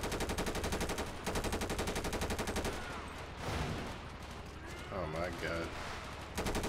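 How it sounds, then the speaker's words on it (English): Rapid automatic gunfire in GTA 5 aimed at an aircraft carrier gunner, dense and loud with sustained bursts, as a man exclaims over it. "I'm trying to shoot that gunner right there."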